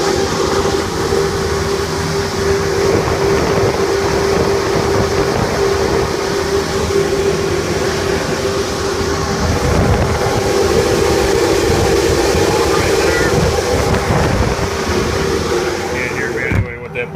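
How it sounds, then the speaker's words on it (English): A blower running steadily in a mechanical room with outside-air HVAC equipment gives a loud, continuous broadband roar and hum with a strong steady tone, unbroken for the whole stretch, near and constant. "Can't hear me anyway with that blower running."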